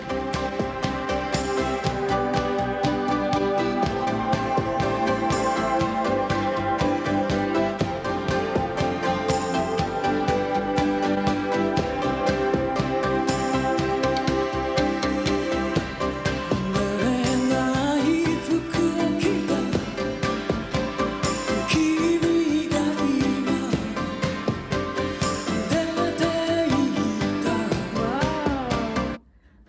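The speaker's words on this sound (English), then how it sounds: "I think it's a sound of a percussion or a drums and guitar" Intro of a 1980s Japanese pop song plays loud and steady, with driving percussion and drums under layered guitar and synth tones, unbroken for half a minute before cutting off.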